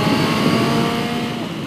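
A Honda CB650F four-cylinder motorcycle revving hard, a loud, smooth, high-pitched engine howl held steady for a brief moment, close by.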